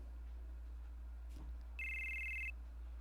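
A telephone rings once in Final Fantasy VII, a short electronic tone that sits clearly above a steady low hum and game ambience.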